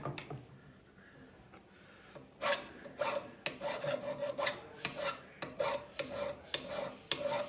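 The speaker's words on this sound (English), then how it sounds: "We can just run the file over just to tidy them up for the external burrs." A second cut hand file is run over the cut ends of metal tubing to take off the burrs, giving a short scrape followed by a run of about a dozen quick, close rasping strokes in a steady rhythm.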